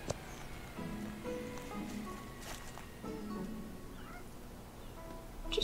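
A cat in the game Old Man's Journey gives several short meows over a soft patter of rain, the calls fairly faint and spaced apart, with no one talking.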